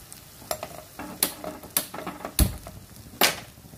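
Green peas and cauliflower florets being toasted and stirred in a pan for Maharashtrian masala rice make a quiet sizzle. Intermittent spoon scrapes and knocks against the pan break through it.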